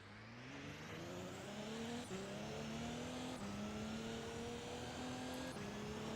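An LMP race car in Assetto Corsa accelerates hard, its engine note climbing steadily through the gears with brief dips at each upshift, a loud continuous whine close up with no talking.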